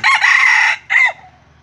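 A loud, close crow from a junglefowl hybrid bantam rooster: a strained, raspy call broken into short bursts, ending abruptly with no other sounds around it.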